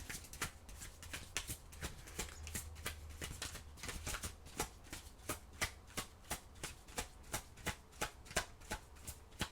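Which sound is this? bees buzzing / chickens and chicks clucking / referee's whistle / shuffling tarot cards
shuffling tarot cards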